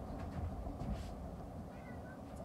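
A house cat meows faintly indoors, with a few short, soft cries over low background noise.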